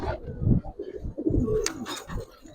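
Low throaty cooing from several pigeons, Giribaz and colored breeds, kept close by in a loft, overlapping soft repeated coos with a few brief higher chirps and rustles near the end.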